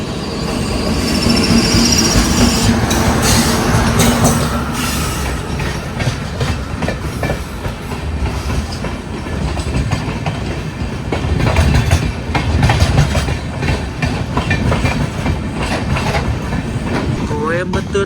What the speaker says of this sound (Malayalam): കോയമ്പത്തൂരിൽ നിന്ന് മയിലാടുതുറയിലേക്ക് പോകുന്ന ജനശതാബ്ദിയാണ് ഈ പോകുന്നത്.